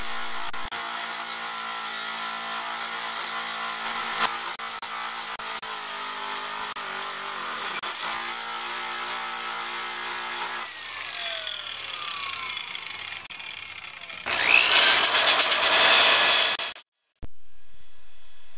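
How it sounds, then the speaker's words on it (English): A power tool grinds a bicycle frame smooth with a sustained, harsh high-pitched whine that holds steady for many seconds. It shifts in tone as the pressure changes, then ends in a louder, brighter burst before stopping, with no voices present. "Now I'll just grind the area smooth."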